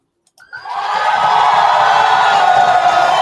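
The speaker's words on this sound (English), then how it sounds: "Give her a round of applause, please." A live podcast audience bursts into applause and cheering, rising quickly to a loud, steady roar of claps and whoops that carries on without a break.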